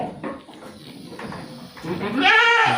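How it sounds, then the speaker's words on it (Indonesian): Peranakan Etawah (PE) goats bleating on a breeding farm, with a loud, drawn-out bleat near the end over background murmuring and a voice. "Kalau dilihat dari jenis kambing semua dari PE."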